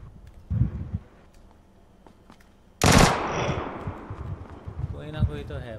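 A sudden loud burst of automatic gunfire erupts in PUBG Lite, a battle royale game, following a quieter stretch with a single earlier shot, then rattles on with scattered follow-up shots and ambient noise.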